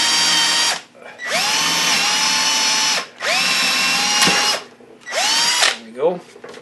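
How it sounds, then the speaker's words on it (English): Power drill boring a hole into a wooden portable target stand, with loud whining bursts of the motor spinning up and running steadily, separated by brief pauses, and a short final burst. "I'm just going to drill 1 hole up here"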